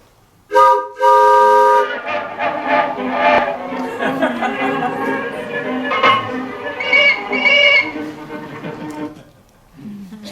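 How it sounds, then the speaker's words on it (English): A 1928 steam whistle blows loudly in several long tonal blasts, rising and falling, with a short pause partway through and a fainter toot near the end. "This is the whistle, everybody, from 1928"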